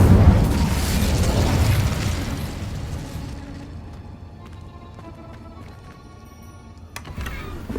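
In Hogwarts Legacy, a fire spell erupts as a loud, roaring blast lasting about three seconds, then fades into quiet, scattered clicks and small crackles.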